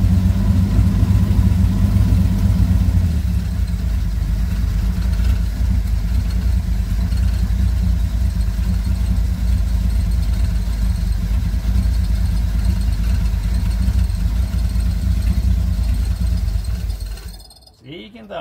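A 1969 Commodore engine idles steadily after carburetor adjustment, a loud, even, low rumble held close and unbroken for a long stretch before abruptly cutting off near the end.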